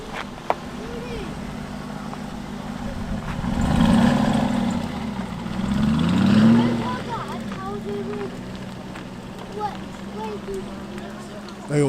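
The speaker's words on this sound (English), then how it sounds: "Go! That's a V8." An Aston Martin with a V8 engine pulls away at an outdoor car meet in the UK, its exhaust note swelling twice as it revs off, while people talk nearby.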